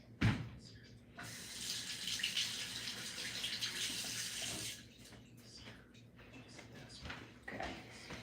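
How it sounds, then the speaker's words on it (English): Tap water runs over hands at a kitchen sink, a steady splashing rush for several seconds, then stops amid a few clunks and handling noises. "can't stand goo on my hands, so I'm gonna rinse."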